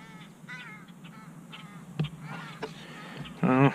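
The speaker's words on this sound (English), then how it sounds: "I got a little domestic dispute with the birds out here" Outdoor birds squabble as a crow gives a few scattered caws, ending in one loud, harsh call.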